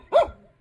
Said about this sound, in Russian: Вот собаки чудо.